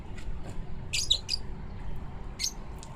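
Scattered short squawks and chirps from pigeons over a continuous low rumble of background noise, several quick calls in a cluster, then one more.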